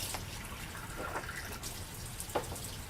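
Water running from an Enagic ionizer set to Kangen 9.5, a steady faint rushing trickle with a few light splashy bursts, heard alone at low level.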